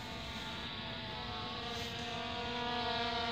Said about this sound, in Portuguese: O drone tá dando umas picotadinhas no motor.